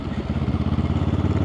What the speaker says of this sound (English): Dropping down the gearbox